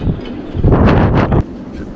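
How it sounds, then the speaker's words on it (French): Strong, hot wind blows on La Gomera and buffets the microphone with a loud, continuous roar. It surges to a peak near the middle and then eases back to a steady rush. "Ici, il y a du vent"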